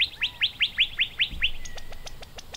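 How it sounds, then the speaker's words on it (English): A wild bird calls nearby with a series of about eight evenly spaced sharp chirps, followed by a quicker run of thinner, clipped chattery notes, clear and close against a quiet background. "it's all one bird"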